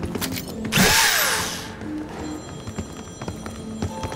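A power drill in a Call of Duty match whirs in a loud burst lasting under a second, mixed with other game effects and a rising whine, then fades under a steady electronic hum with scattered clicks.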